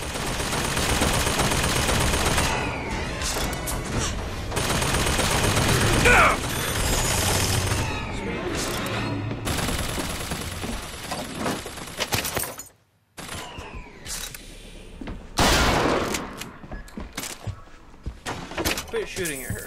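Gunfire and mechanical clatter in the video game Bioshock Infinite, bursts of rapid shots mixed with clicks, ratcheting and door-like thuds, with a voice talking over parts of the action.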